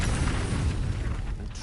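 A fire bolt spell blasts a jar apart in the Baldur's Gate 3 video game, a deep rumbling boom that rolls steadily through the whole moment with no voices over it.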